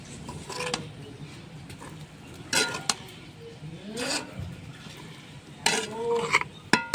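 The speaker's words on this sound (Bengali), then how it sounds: "এরকম করে নাড়াচাড়া করে নিতে হচ্ছে।" A spoon scrapes and stirs sago (sabu) khichuri in a pan, close and intermittent with soft scraping strokes and light sizzling, joined by brief clinks and rubbing sounds in short bursts.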